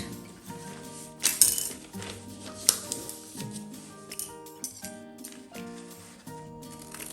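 Scissors cut a V shape into a book cover, snipping in a series of crisp metallic clicks and short crunches at close range, with no talking.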